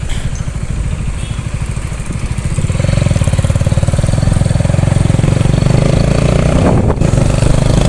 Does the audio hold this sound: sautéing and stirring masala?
no